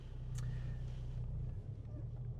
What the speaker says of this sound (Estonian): seda summuti mõnusat siukest urinat on päris hästi kuulda